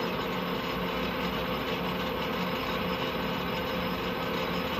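A lathe at about 360 RPM taking a light five-thou facing cut with an ISCAR carbide insert across a flywheel back plate's friction surface, a steady, dense mechanical whir with no pauses or voices.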